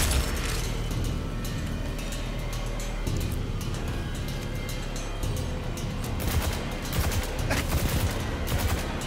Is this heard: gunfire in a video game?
yes